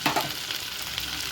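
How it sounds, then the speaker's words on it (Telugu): Onions fry in oil with a steady, close sizzle and crackle for a soya chunk masala curry being cooked on low heat. "ఆనియన్స్ ఫ్రై అవుతూ ఉన్నాయి."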